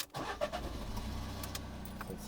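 A small car's engine cranks and catches with a sudden rumble, then settles into a steady idle close by from inside the cabin.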